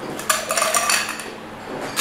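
A cocktail with a few drops of Angostura bitters stirred with a bar spoon in a mixing glass, producing a quick run of bright metallic clinks and ice-against-glass rattles for about a second, close and clear with no talking.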